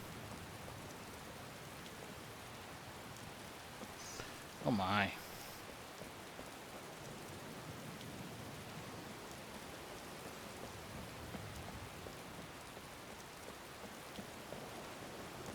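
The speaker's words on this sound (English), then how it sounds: "The rain is really not doing me any favors." Rain falls outdoors in a chilly setting near a river or ocean, a faint, steady hiss of drops that runs throughout, with a brief voice exclamation breaking in once.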